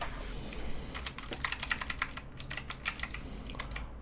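Rapid, crisp typing on a keyboard with purple clicky tactile switches, close and distinct individual keystrokes in uneven bursts with little background noise.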